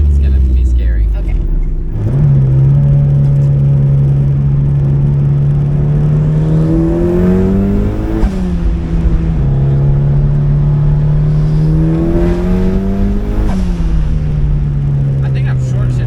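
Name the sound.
turbocharged Mazda Miata engine accelerating, short shifting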